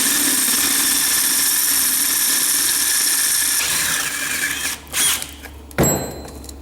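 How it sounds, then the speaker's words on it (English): A power drill whines steadily as it bores out 10 mm holes in alternator metal, then slows and stops in short bursts near the end, close and loud, no voices. "I'm just going to drill out these two holes here to 10 mil."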